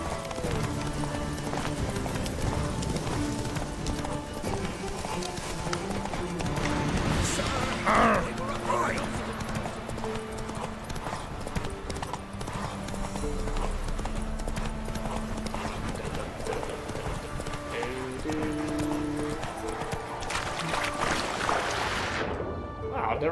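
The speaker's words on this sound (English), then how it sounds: "Wow, I've never gotten my horse in the water before." A horse galloping and splashing into water in The Witcher video game, with steady loud clip-clop hoofbeats and splashes continuing throughout, under background game sounds and occasional talk.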